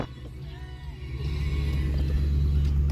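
A used car with about 100,000 miles on it sits idling, its engine giving off a steady, smooth low rumble that grows slightly louder partway through, heard from inside the car.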